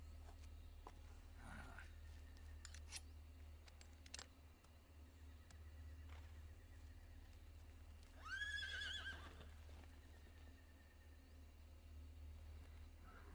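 Soft scattered clicks and clip-clopping hooves over a low hum in the video game Metal Gear Solid Delta: Snake Eater, then a horse whinnies briefly in the middle distance before quieter hoof sounds resume.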